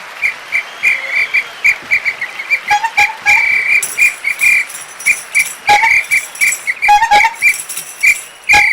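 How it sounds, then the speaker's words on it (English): A shrill whistle is blown in rapid, repeated chirping blasts, loud and close, with some longer trills mixed among the short bursts. "Where's my damn whistle?"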